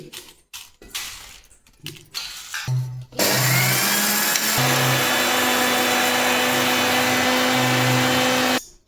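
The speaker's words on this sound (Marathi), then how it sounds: "मी ह्या लाल मिरच्या दळून घेते" A mixer grinder grinds dried red chillies in a steady, loud, continuous whir with a high-pitched whine, starting abruptly after some scattered knocks and handling clatter.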